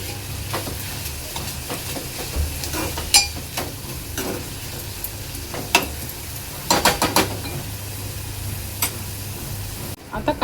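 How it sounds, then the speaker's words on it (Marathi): Onion frying in oil in a pan until browned, a continuous moderate sizzle broken by sharp scraping and clinking stirs at irregular moments. "कांदा आहे ना तेलावर चांगला लाल होईपर्यंत शिजवून घ्यायचा आहे।"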